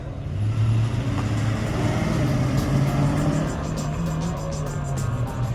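A Chevrolet Corvette C4 pulls away at the start of an autocross run, its engine a steady, fairly loud drone that holds continuously from start to finish without sharp revs.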